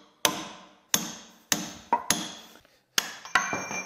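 Heavy hammer blows driving crusty dies out of a small Beaudry power hammer, a series of about seven sharp metallic strikes with ringing decay, close and loud, at a slightly irregular pace.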